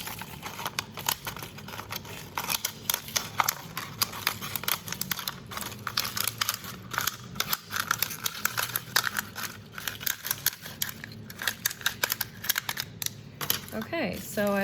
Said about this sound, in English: Keep following the lines and angle your scissor down so you don't cut it off completely.